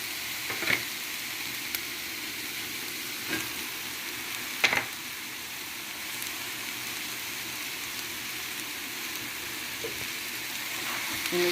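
Chicken pieces for a sambusa filling fry in a pan with a steady sizzle while being stirred and mixed, with a few sharper scrapes and clacks of the spoon standing out near the start.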